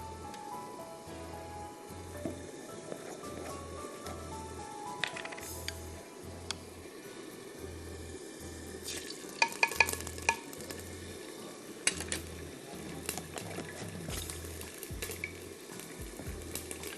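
Marinated chicken fries in ginger-garlic paste inside a handi, a soft continuous sizzle broken by repeated rhythmic scraping strokes of stirring, close and moderately quiet, with a few sharper clinks.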